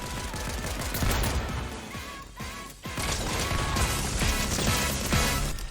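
Gunfire in the video game Fortnite, a dense, loud barrage of rapid shots and crashing impacts that runs almost continuously with a brief lull midway.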